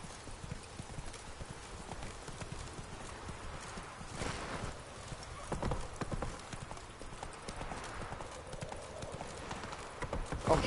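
Hooves of a horse in the video game The Witcher 3 clopping in a quick, steady rhythm over ambient game sound, moderately close and even throughout, building slightly toward the end.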